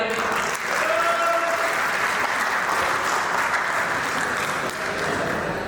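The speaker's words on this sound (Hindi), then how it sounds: "तालियां बजा दीजिए" An audience at a celebration event in Bhopal breaks into strong, sustained applause, a thick continuous clapping sound, fairly close, with a few voices faintly beneath it.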